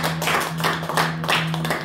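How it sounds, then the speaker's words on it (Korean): A church congregation clapping together in a dense, steady burst of applause that carries on without a break, with no speech. "하나님께 영광의 박수."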